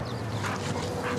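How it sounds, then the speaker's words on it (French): A dog whimpers softly and continuously for about a second in a film scene, close by, under a steady background hum. "Un beau chien."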